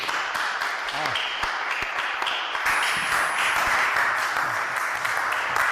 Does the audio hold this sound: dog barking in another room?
no